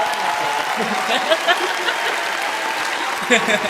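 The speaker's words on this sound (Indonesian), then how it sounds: "Tepuk tangan dong" Studio audience at a school talk show applauding a female head of the accounting department, a steady even clatter of many hands throughout, fairly loud, with faint chuckles and a few voices mixed in.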